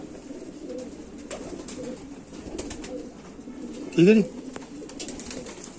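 Indian Rampuri pigeons give a single clear coo in the middle, a short rising call heard close over a steady background of soft rustling and faint distant murmur, with a brief spoken phrase nearby.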